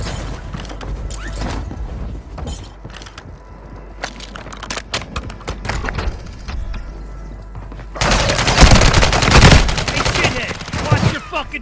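Gunfire in the mobile shooter Warzone Mobile on Rebirth Island, scattered shots and bursts at varying distances, then a loud, dense volley of rapid fire near the end, with other game sounds underneath.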